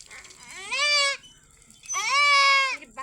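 A goat being held for treatment lets out two long, loud, wavering bleats close by, separated by a short pause, with no talk over them.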